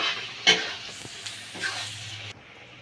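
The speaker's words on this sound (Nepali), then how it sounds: "यसलाई पहिला भुट्छौँ।" Garlic-ginger paste with chilli powder and turmeric sizzles in hot oil in a pan, a close hissing fry with a couple of stirring scrapes before it suddenly drops away.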